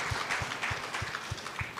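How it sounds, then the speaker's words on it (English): Audience applause at a fireside chat event, a steady wash of clapping from a crowd filling the short moment evenly, with faint low thumps underneath. "Could you please give her a round of applause?"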